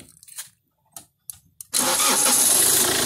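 A car engine starts up after a few short clicks and cranking attempts, catching abruptly and settling into a loud, steady idle close by, heard after repair work in Paricatuba, Amazonas.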